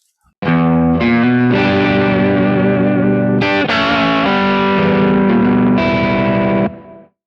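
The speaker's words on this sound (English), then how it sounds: "And now you hear a bigger tone, bigger Marshall amp" Electric guitar through a Kemper Profiler modelling a big Marshall amp and 4x12 cabinet with a roomy reverb, playing loud sustained distorted chords that change every second or so, ringing out alone before a short reverb tail.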